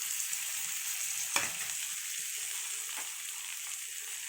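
Tomatoes sautéing with turmeric in a pan for a fish curry make a steady close sizzle, broken by a single utensil tap.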